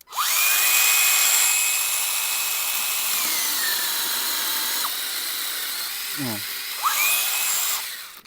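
Procraft PKA16 and Dnipro-M CS-12 cordless mini chainsaws whine loudly and steadily while cutting wood, the pitch dipping under load, a brief stop and restart, then a final rev; a voice speaks briefly near the middle.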